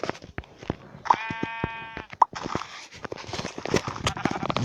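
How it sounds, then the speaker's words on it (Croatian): Sheep in the game Minecraft bleat twice, each a short wavering cry standing out over scattered clicks and thumps of gameplay, with no talk over it. "Čuo sam ovcu."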